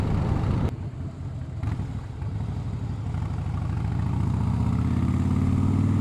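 Fifteen-year-old Harley Davidson Fatboy motorcycle engine running loud and close, a deep throbbing low rumble that builds steadily toward the end, with a couple of brief clicks early on.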